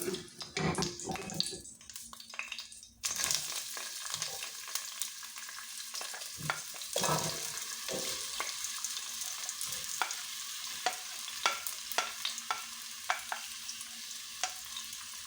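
Onions hit a hot pan with a burst of sizzling and keep frying in a dense, steady crackle, with scrapes and clinks of a spoon stirring through them up close, for a Hyderabadi bhagara baingan dish.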